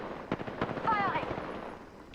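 Gunfire in a battle royale video game cracks out in a few sharp shots and a short burst, mixed under a person talking throughout.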